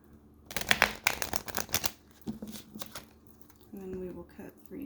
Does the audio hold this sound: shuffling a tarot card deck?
yes